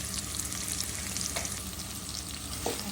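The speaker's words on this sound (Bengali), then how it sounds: "এখন একটু ভেজে নিব।" Onion and salt frying in a pan give a steady, close sizzle with light stirring running through it, and no voices.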